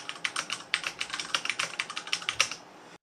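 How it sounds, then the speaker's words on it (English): Typing on a HyperX mechanical keyboard with Cherry MX Brown switches, a quick irregular run of crisp, fairly loud keystroke clicks heard close up and alone, stopping abruptly near the end. "So I'll just kind of type on this."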